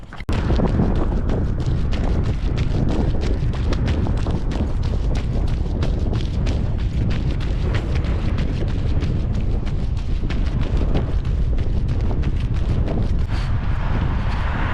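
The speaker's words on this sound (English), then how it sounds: "The wind is picking up" Strong wind blows across the microphone outdoors during a morning run, a loud, continuous rumbling buffet with gusty bursts throughout and no talking.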